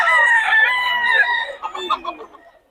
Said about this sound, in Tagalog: Solid na solid ang mga manok ngayon dito.